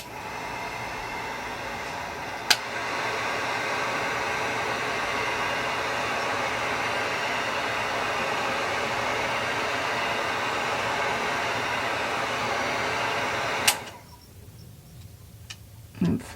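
A heat tool runs steadily, melting wax over mixed media paper ephemera: an even, airy blowing hiss that holds for about thirteen seconds, then cuts off, leaving a quiet room with a few small clicks.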